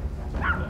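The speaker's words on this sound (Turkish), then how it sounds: "Bayağı bildiğin köpek sesi." A single short dog bark, close and fairly loud, a brief bow-wow sound with a whimpering edge.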